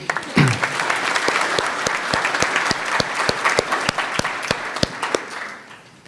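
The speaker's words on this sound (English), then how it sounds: "Can I get one more round of applause for Marty?" An audience at a business forecast breakfast gives a round of applause: dense, sustained clapping from a crowd that fades out toward the end.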